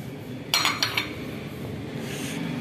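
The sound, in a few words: mixing seekh kebab meat mixture with two eggs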